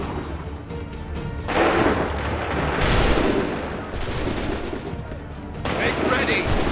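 Musket volleys crack out in Assassin's Creed III, with a dense battle din of rolling gunfire in overlapping bursts and booming waves.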